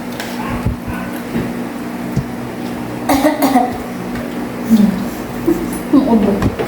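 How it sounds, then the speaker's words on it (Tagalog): Several short coughs come up close in a home setting, scattered over a few seconds. Faint background voices and hum sit underneath them. "Ang ubo."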